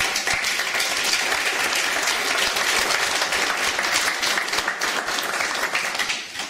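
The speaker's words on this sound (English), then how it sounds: "they all deserve a big applause from us" A crowd applauds steadily, dense clapping sustained throughout before tapering slightly at the end.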